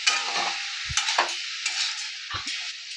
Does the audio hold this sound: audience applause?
no